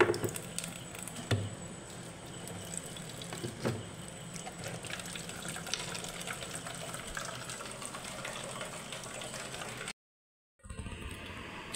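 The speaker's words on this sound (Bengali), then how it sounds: "চলো ওখানে জল পড়ছে," Tap water running steadily in a home, a continuous splashing patter that fills the clip alone without talk, with a few brief knocks, stopping abruptly near the end before a faint return.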